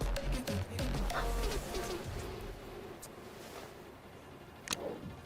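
Birds calling in the video game Murder by Choice, ahead of a storm: a few soft, coo-like calls scattered over a low, steady ambient bed, with a sharp click near the end.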